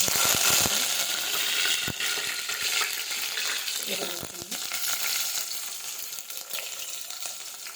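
Cauliflower fries in oil with mustard seeds, giving a loud, dense, continuous sizzle. Scattered crackles and pops run through it, along with a few stirring knocks early on.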